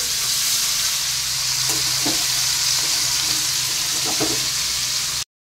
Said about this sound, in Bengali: মাছগুলো ভাজা একদিকটা হয়ে গেছে, এখন উল্টে নিচ্ছি।